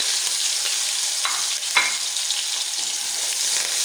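Finely chopped green chillies fry with garlic and cumin in a pan, giving a continuous, close, bright sizzle with a few soft stirring scrapes and no talking.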